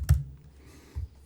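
Two sharp, close key clicks on a computer keyboard, a loud one at the start and a softer one just before the end, with quiet gaps around them.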